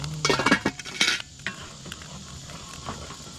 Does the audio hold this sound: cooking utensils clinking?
yes